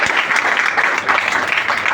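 A church congregation at a Sunday worship service claps together, a loud, sustained burst of many hands that swells and dips slightly, with no talking.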